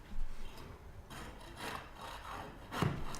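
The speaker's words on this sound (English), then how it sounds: "Here's just a close-up shot of that staple scraper in action." A staple scraper is pushed across a floor to lift carpet staples, making close, gritty rasping strokes in an uneven rhythm, with a harder scrape near the end.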